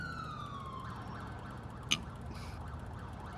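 An ambulance siren wails steadily from the vehicle itself, a continuous rising-and-falling tone over low rumbling road and engine noise, with one brief sharp click partway through.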